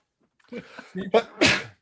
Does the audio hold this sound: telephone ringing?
no